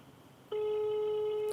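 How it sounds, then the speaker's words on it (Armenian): A telephone ringback tone starts abruptly after a brief quiet moment and holds as a loud, steady electronic tone right up close. "Լավ, զանգում ենք։"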